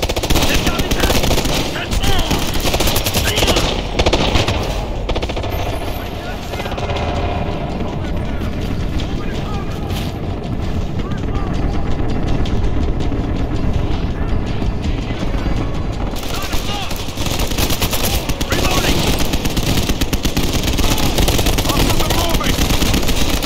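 Sustained, loud automatic gunfire from the video game Ghost Recon Future Soldier, dense continuous bursts across the whole stretch, with shouted voices heard over the shooting.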